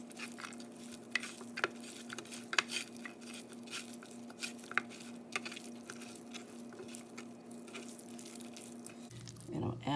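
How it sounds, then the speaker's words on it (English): Chicken wings being tossed and rubbed with a fajita-style keto seasoning mix, soft wet squishing and patting with scattered clicks, close up, and a louder clatter near the end. "Mix that on the wings."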